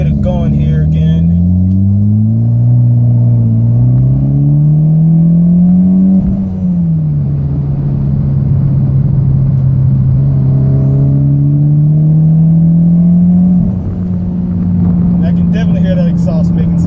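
A 2014 Mitsubishi Lancer Evolution MR engine drones and climbs in pitch through two long pulls, its exhaust rumbling loudly up close, with a voice briefly audible at the edges.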